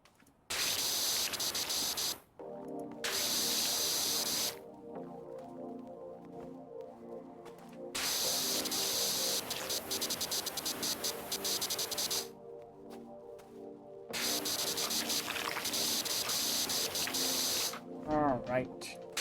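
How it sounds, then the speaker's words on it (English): A pressure washer sprays in the video game Powerwash Simulator, coming in long hissing bursts of several seconds each, separated by quieter gaps where a tonal background hum carries on. "You're actually using a pressure washer."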